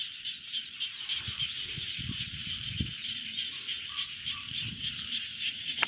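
Small frogs calling at night in a Thai rice field with knee-deep water, a steady dense chorus of high chirps with faint low thumps and rustles underneath.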